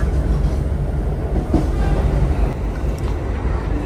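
A train rumbles steadily past at close range on an Indonesian railway, a loud continuous roar with faint rhythmic rail clatter and no talking.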